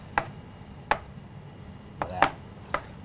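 A knife cuts ropes of flourless butternut squash gnocchi dough into pieces, giving five crisp, close chopping knocks at irregular intervals against a quiet background.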